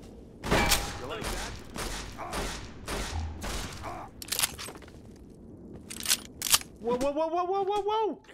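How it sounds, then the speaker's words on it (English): A burst of gunfire, a rapid series of sharp cracks and thuds spread over several seconds, ending with a voice shouting in alarm. "And then gunfire ensues."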